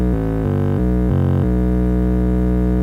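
A bass line built from a chopped cycle of an 808 bass drum, heavily processed, plays a short run of buzzy, droning low notes that change pitch a few times before settling into one sustained tone, loud and alone.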